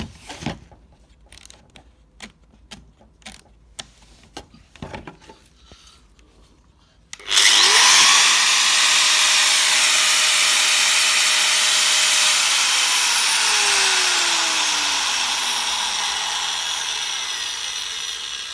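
After several seconds of scattered clicks and handling taps, a 1.5 kW power tool with a speed regulator spins up to its top speed. It runs as a loud, steady high whine that fades gradually over the remaining time.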